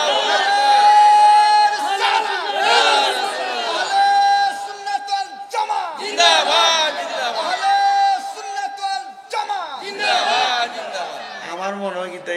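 A large crowd at an Islamic religious gathering roars a takbir in loud, repeated chanted waves, the massed voices swelling and falling over about twelve seconds.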